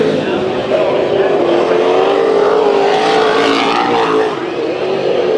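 Race cars at full throttle on a speedway during a heat race, a loud continuous engine roar with a steady droning pitch throughout, under a commentator's voice.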